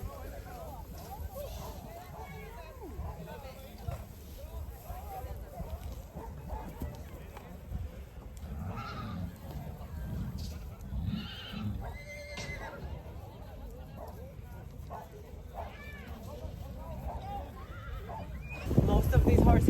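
Horses whinny and neigh repeatedly at an Icelandic horse roundup in a farm valley, with hoof clopping and a dog barking at moments, while people talk nearby.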